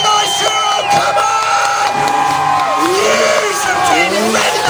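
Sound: crowd screaming and cheering at an FMX show

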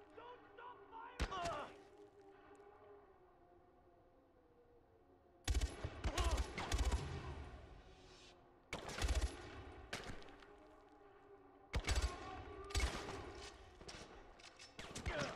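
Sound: sustained gunfire in the video game Far Cry 4

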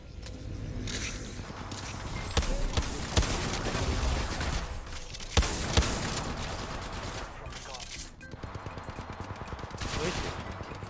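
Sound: weapon gunfire in video game Apex Legends Mobile

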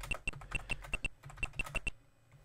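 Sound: typing on a computer keyboard in Mario Teaches Typing

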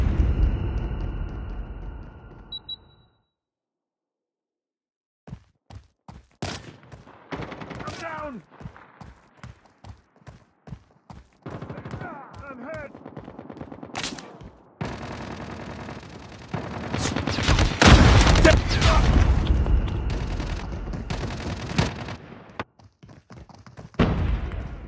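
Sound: gunfire in the video game Call of Duty

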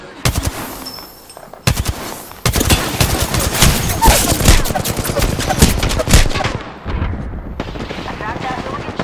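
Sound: gunfire in Apex Legends video game

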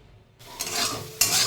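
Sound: potatoes frying in a pan

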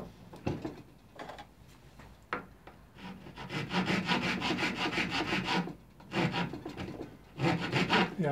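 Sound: rough rasp shaping plywood crook

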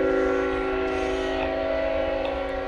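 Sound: train passing in the background

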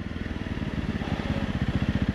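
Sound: Honda CRF 300 Rally motorcycle riding on sand

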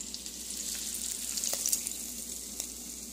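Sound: hot tempering added to rava pongal, sizzling

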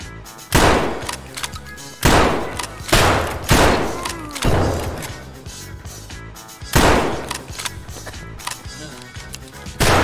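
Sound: shotgun firing in Escape from Tarkov video game

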